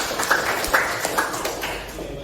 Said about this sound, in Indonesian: benar, tepuk tangan dong